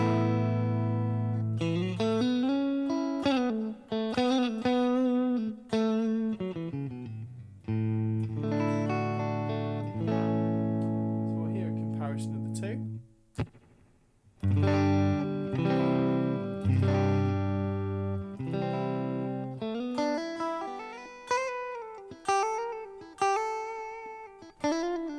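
An electric guitar through a Helix Floor simulation of a Deluxe Reverb amp, miked with an SM57 at 45 degrees, plays chords and ringing single notes with a warm, slightly driven tone and a reverb tail, with no talking.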